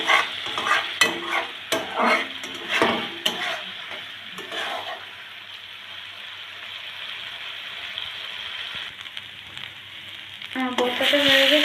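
Pointed gourd for potol bharta being stir-fried in a pan: repeated scraping stirring strokes close by at first, then a steady soft sizzle on its own.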